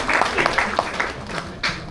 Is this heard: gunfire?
no